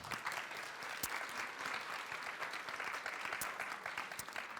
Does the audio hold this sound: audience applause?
yes